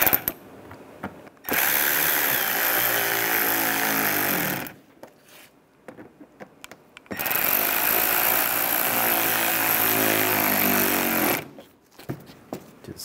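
Radiator cooling fan assembly screws on a 2011-2015 Chevy Cruze being tightened with a power tool: two long, steady, loud whirring bursts of about three and four seconds, separated by quieter clicks and handling noise.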